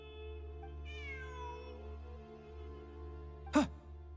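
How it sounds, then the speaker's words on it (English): A cat in Genshin Impact meows once, a rising then falling call heard fairly clearly over a steady low game hum, followed a few seconds later by a short sharp click or thud. "Look, a cat."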